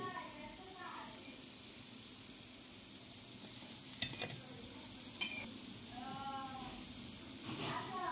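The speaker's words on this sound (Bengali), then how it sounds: "বাকিগুলো আমি এইভাবে ভেজে নিব" Sweets deep-frying in hot oil give a steady, faint sizzling hiss throughout, with a few sharp clinks and tapping noises. Bleating goat or sheep-like calls sound in the background.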